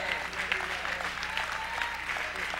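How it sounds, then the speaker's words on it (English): A church congregation applauds during a sermon, a short burst of clapping that is moderately loud and steady, with a voice faintly present beneath it. "You all clap like you believe God."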